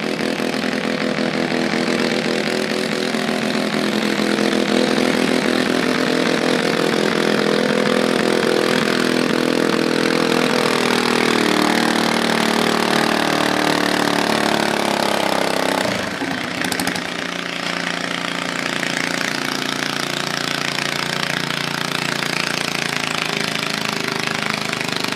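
A methanol- or gas-fueled garden tractor roars at full throttle, revving near 5,000 RPM during a four-state pull at the Franklin County Fair; the loud, steady engine drone runs continuously throughout with a brief dip midway.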